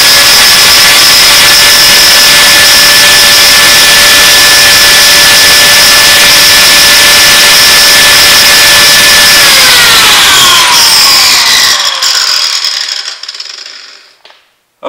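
A 4.5-inch angle grinder running off a DIY 225 Ah battery pack, a loud, close, steady high motor whine that holds for about ten seconds before falling in pitch and fading as it spins down.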